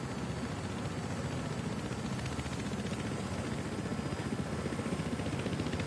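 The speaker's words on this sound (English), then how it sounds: "Helicopter." Helicopter in a PS4 online shooter game, a steady, rapid rotor thump under a broad engine hiss, moderately loud and continuous with no talk.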